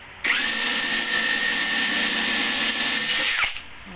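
A power drill bores a hole for a room shelf, giving one steady high-pitched whine lasting about three seconds, close and loud, then spinning down.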